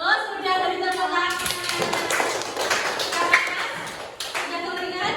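Children clapping hands in class during an ice-breaking rhythm game, a fast run of claps mixed with young voices and a teacher talking.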